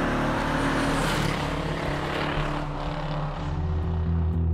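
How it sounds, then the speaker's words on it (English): A Pontiac GTO's old-fashioned V8, with a 90-degree crank and an unusual firing order, runs with a loud, steady, deep rumble that holds through the whole stretch with no talk over it. "an old-fashioned V8 with a 90-degree crank and the incorrect firing order, strictly speaking. It just sounds wonderful."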